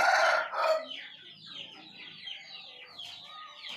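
Hens cluck and squawk close by in a shed, starting with a loud burst of calls that settles into softer, continuous clucking.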